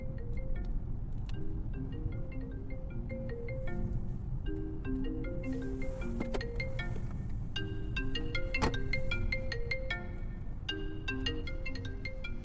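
A quiet melodic ringtone plays a repeating electronic tune, its bright beeping notes cycling over and over with little else around it.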